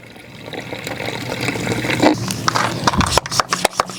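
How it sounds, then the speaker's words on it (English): Water is poured into a sprayer of Chemical Guys tire cleaning solution, a gurgling, splashing pour that grows louder and ends in a few sharp knocks and clunks. "I'm gonna add a little bit of water."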